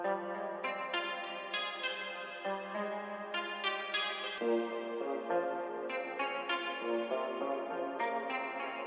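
Bright synthesizer chords from Omnisphere's arpeggiator ripple in rapid arpeggiated patterns with a chorused, echoing shimmer, changing chords every couple of seconds, alone with no voices.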